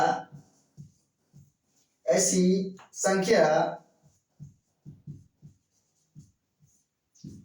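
A pen taps and scratches in short, evenly spaced strokes while notes are written during a maths lesson, with a brief burst of speech in the middle.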